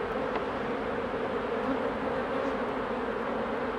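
Honey bees hum densely at an open hive on a warm day, an unbroken, close, even buzz filling the whole stretch without any voices.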